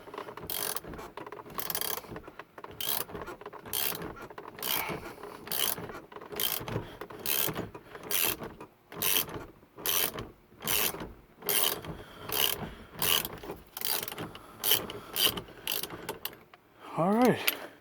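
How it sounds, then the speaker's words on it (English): A ratchet wrench clicks in steady bursts of repeated strokes while loosening the steering wheel nut on a Datsun 280Z during installation of a Grant quick release. The clicking is close and fairly loud, with a brief squeak near the end. "as I'm moving it all about with the ratchet"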